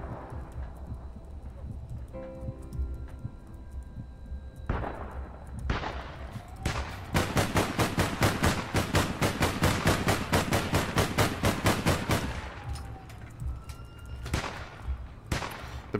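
Rapid gunfire in the online shooter APB: Reloaded, with the 45 AP among the weapons, cracks in a dense burst of shots for several seconds, then returns in scattered bursts, mixed with game noise and with no talk.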